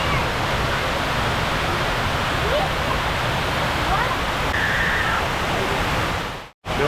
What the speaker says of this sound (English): we're visiting the Hines Water Wall.